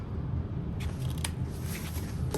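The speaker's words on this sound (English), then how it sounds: "I'm trimming off the excess at that corner, but not through my stitches." Scissors trim excess fabric at the corner of a zipper pocket while sewing a bag, giving a few quick, close snips over a steady low background hum.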